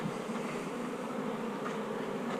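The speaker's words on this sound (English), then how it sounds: "So that's a little swarm." A small swarm of honeybees hums steadily nearby, a dense continuous buzzing drone with no talk.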